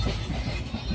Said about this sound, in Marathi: मित्रांनो आता आम्ही ट्रेनमध्ये बसल्या